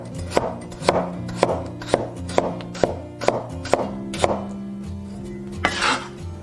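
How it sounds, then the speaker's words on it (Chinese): Half a cucumber is cut into diamond-shaped pieces with a knife on a cutting board, giving about a dozen crisp, evenly spaced chops, close and clear, with no talking. "半个黄瓜切菱形块。"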